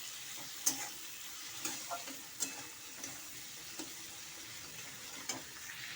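A spice paste with chilli powder and salt fries in a pan, giving a soft, steady sizzle broken by occasional light clicks and scrapes of stirring.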